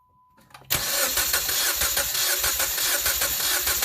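A 2015 Jeep Patriot engine cranks during a cylinder 3 compression test with the throttle held wide open. A short tone comes first, then a loud, rapid, rhythmic chugging of the starter turning the engine over continues steadily to the end.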